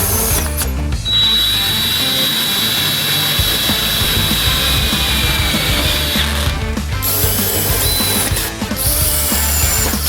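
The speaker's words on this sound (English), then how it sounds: "I might end up using this little battery impact driver" A battery impact driver runs screws into a 1975 Porsche 914 floor pan, a loud steady mechanical whir and ratcheting chatter lasting most of the stretch, with brief pauses between bursts in a close, echoing workshop.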